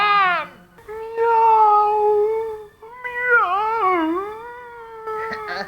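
A person imitates a cat, drawing out long, wavering meows with bending pitch. The calls are loud and close, with short gaps between them.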